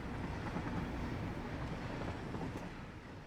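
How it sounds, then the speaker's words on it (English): A train rumbles past in the factory-building video game Satisfactory, a steady dense low roar that holds evenly throughout with no talk over it. "Hey, train."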